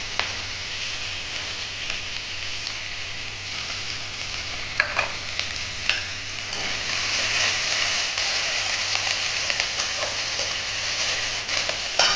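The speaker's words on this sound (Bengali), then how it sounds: "এখন আমি পেঁয়াজ দিয়ে দিচ্ছি, কুচনো পেঁয়াজ দিয়ে দিচ্ছি" Chopped onions and torn dried chillies frying in hot oil, a continuous hissing sizzle that swells louder partway through, with scattered spoon taps and scrapes, no talk.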